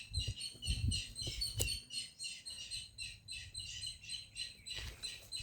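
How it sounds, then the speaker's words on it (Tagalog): Birds chirp and tweet in quick repeated bursts, bright and fairly close, with a few low thumps and rustles underneath. "Tahol ng ibon"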